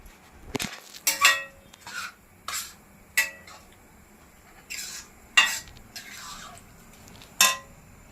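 Carrots for gajar halwa being stirred in milk in a pan over high heat, with a spoon scraping and clinking against the metal in irregular strokes and a soft bubbling underneath, close by and with no talking.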